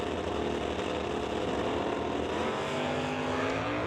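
Drag racing cars, among them a 1996 Camaro, roar continuously and loudly at an NHRA Summit ET Series event, a dense sustained engine drone with no pauses.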